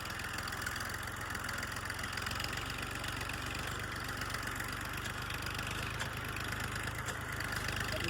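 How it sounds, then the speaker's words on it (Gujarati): A tractor engine runs steadily in a field during wheat sowing, with a continuous low rumble heard from inside the cab and no speech over it. "મિત્રો આપણે ટ્રેક્ટરમાં બેઠા છીએ."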